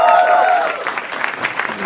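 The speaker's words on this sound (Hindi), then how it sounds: "जोर तालियां हो जाए पैनल के लिए" A studio audience on a talent show gives a brief round of applause for the panel, heard under a speaking voice and fading within a couple of seconds.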